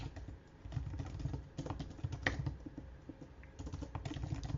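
Quiet, rapid typing on a computer keyboard: steady, close, soft key clicks with brief pauses and no voices.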